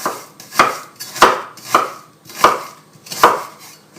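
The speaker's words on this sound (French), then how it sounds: "On va faire de la même avec les oignons. On les coupe en rondelles." A knife cuts onions into rings on a cutting board, making five evenly spaced sharp chops roughly every 0.6 seconds, each a crisp thud close by, with quiet gaps and no talking.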